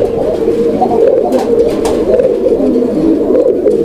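A breeding pair of pigeons, a male and a female, coo steadily and loudly close by, a dense continuous murmur of overlapping calls with no voices.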